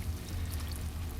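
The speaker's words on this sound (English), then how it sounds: "Just pour it in here." Wet stainless steel tumbling media and dirty 9mm brass casings poured out of a Harbor Freight tumbler, giving a steady watery splashing pour with a low rumble underneath, close and continuous.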